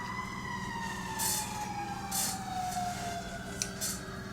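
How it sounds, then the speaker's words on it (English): A siren wails steadily in the distance, heard through an open door, its tone sweeping slowly downward, faintly through the surrounding hum. "My door is open, that's why you can hear the siren so well."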